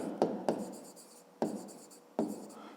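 Pen or chalk writing out a fifth-grade maths solution: a few sharp taps followed by short scratchy strokes, quiet and close, with no talk.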